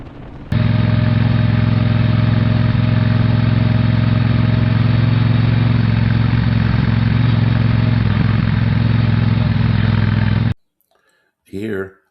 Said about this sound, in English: Now, the sidecar applying the racing line.